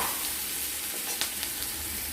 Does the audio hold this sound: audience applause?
no